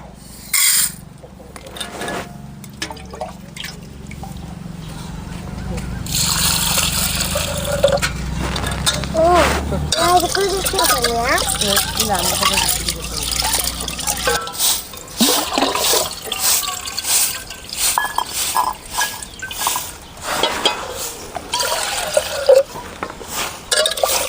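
Water sloshes and splashes as half a cup of chana dal (split chickpeas) is rinsed in a home kitchen, steady and close, with pouring and trickling in bursts throughout; someone speaks briefly over it.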